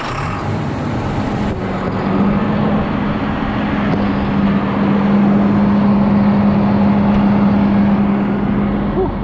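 A boat engine idles steadily after starting, warming up with a continuous, even low drone and a faint hum that holds nearly unchanged throughout, with no talking.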